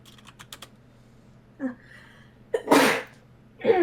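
A single loud, close sneeze from a person during a podcast-style discussion. It bursts out suddenly after a few soft keyboard clicks and a short breath, and a second, smaller exhale or sniff follows right after.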